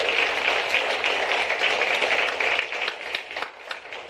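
Comedy club audience applauding, a dense wash of clapping that holds steady and fairly loud before thinning slightly toward the end.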